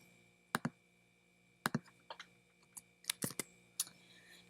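Keys on a calculator are pressed in short irregular bursts of crisp clicks, close and fairly quiet, separated by pauses over a faint steady hum with no talk.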